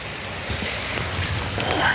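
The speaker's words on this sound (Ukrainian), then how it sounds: "Ну от, власне, і дощик пішов." Steady rain patters and hisses on nearby surfaces in a dense, continuous spray of drops, with no talking.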